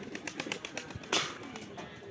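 Deshi pigeons, including a male, on a village house rooftop in Bangladesh in winter, giving soft rhythmic pulsed coos with a brief wing-flap burst midway, faint and close.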